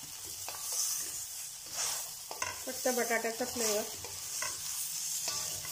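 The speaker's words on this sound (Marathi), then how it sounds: "त्यासाठी फोडणी करतोय।" Hot-oil tempering with raw potato sizzling in a pan for potato semolina idli, a steady close hiss and crackle while a person talks briefly over it.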